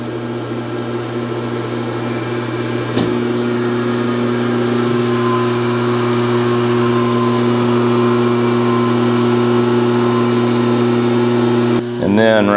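A 1966 LeBlanc lathe runs with a steady, loud mechanical hum and whine while the carriage is moved, and a brief clatter or clunk near the end.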